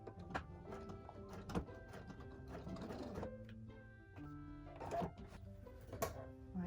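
A sewing machine stitches a pouch lining, its motor whirring and the needle rattling in quick mechanical runs with a brief pause and a change in pitch, fairly quiet and close.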